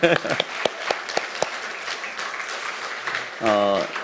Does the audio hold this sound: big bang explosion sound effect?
no